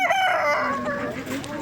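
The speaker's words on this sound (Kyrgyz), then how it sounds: "Так, бу жерде мына жаш короздор экен." Young roosters crow at a poultry market in Sokuluk, Kyrgyzstan, a single drawn-out crow close by over low market background noise.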